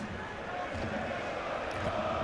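A large home crowd roars steadily at Grünwalder Stadion during a TSV 1860 München third-division football match, a dense, continuous wash of voices and chanting that stays at an even loudness throughout.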